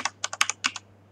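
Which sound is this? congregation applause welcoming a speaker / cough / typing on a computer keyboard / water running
typing on a computer keyboard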